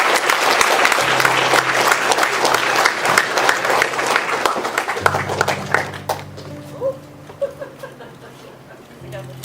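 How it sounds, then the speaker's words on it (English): Students in an anti-bullying school assembly give a big round of applause, loud and sustained at first, then thinning out into scattered claps as a low hum and faint voices remain. "give a massive round of applause to Craig Hammond"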